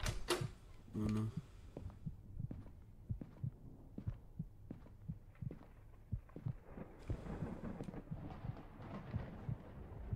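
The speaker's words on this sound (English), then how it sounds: "I can hear my heart beating." A steady heartbeat thuds in the horror video game Schizo, low and rhythmic at roughly one beat per half second, with a faint hum underneath and a brief voice near the start.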